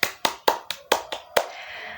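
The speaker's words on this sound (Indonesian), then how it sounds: "berikan tepuk tangan untuk kelompok 2 ya" Classroom clapping for a student group, seven sharp close hand claps in an uneven rhythm, fading into faint room noise.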